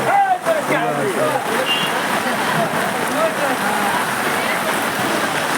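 Rain patters steadily on surfaces at the Nagarkonda village market, a dense, close hiss of drops, while a voice talks over it near the start.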